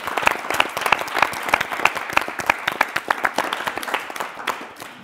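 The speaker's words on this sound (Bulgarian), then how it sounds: "Аплодисменти за тях" An audience at a Bulgarian reality-show season finale applauds the finalists, a clear, sustained burst of many hands clapping with sharp individual claps standing out, fairly loud and even for several seconds.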